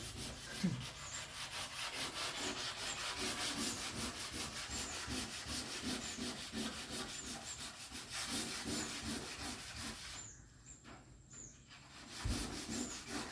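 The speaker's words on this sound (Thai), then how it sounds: "ขัดสีแล้ว" Rhythmic back-and-forth scraping of hand sanding on a painted surface, steady strokes that pause briefly before resuming.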